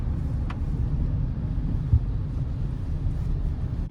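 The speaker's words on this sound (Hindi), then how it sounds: "इंजन ये देखो चौथे गियर पे" A petrol 2026 Kia Seltos engine pulls steadily in fourth gear, a continuous low drone with road rumble and a brief thump midway, heard from inside the cabin with no talking.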